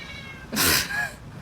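A cat on a rooftop gives a single loud, close meow lasting a fraction of a second, with quiet background before and after.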